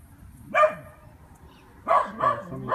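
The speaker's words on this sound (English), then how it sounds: "My dog's barking like school kids coming in." A dog barks close by in a garage during a 4x4 wheel bearing repair: one bark, then a quick run of three, over low background hiss.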